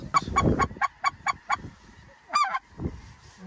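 Snow geese calling during a waterfowl hunt in Arkansas: a quick run of repeated honks, then a short burst of overlapping cries and a last call, moderately near, with no talk.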